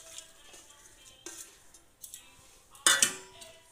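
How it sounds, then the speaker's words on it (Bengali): Metal utensils clink and scrape against a thick pan or bowl as 500 g of fish is mixed by hand with chopped potato for fish paturi, soft intermittent taps building to a brief louder clatter near the end, no talking. "এবারে আমি এই মাছটাকে মাখিয়ে নেব"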